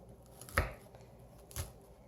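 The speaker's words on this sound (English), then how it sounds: "Just even a scoring, so then later it's not so difficult to actually cut out the pieces" A knife scores homemade peanut brittle (chikki) on a tray, giving two soft, separate chopping taps about a second apart, close but quiet against a faint background hiss.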